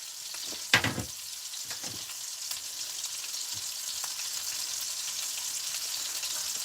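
Bacon frying in a pan gives a steady, bright hiss and crackle, with a few louder clatters or stirs near the start before the sizzle continues evenly.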